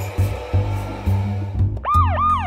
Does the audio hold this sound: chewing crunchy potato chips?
no